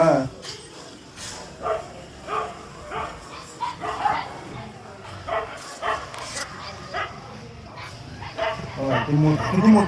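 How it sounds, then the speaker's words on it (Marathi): A big dog gives repeated barks, yips and whimpers at irregular intervals, fairly close, while people talk nearby. "किती मोठं कुत्रा आहे हे भुका लागत त्याला."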